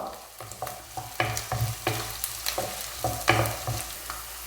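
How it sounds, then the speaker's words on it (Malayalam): Green chillies frying with ginger and garlic in oil for a curry lemon pickle: a soft, steady sizzle broken by regular scraping strokes of a spoon stirring the pan, close and quiet. "പച്ചമുളകും ചേർത്ത് ഇളക്കി കൊടുക്കാം"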